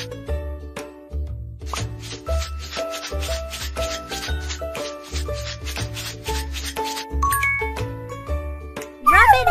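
Rubbing baby powder onto a baby in a doll-house baby-care game, heard as repeated soft scrubbing strokes in a steady rhythm over light, plinking background music, with a bright sparkly chime at the very end.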